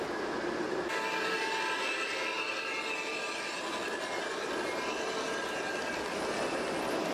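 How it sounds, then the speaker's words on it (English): A model train runs along a folk art model railroad, giving a steady, fairly faint rolling rumble with a soft metallic hiss. It carries on evenly throughout with no talk. "The train passes under the Roosevelt Arch at the Gardner, Montana entrance to the park"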